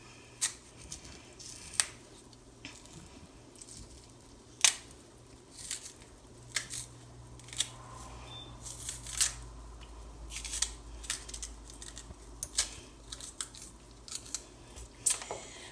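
A knife cuts through thick green plantain skin in a series of sharp, close clicks and snips, spaced irregularly over a quiet background.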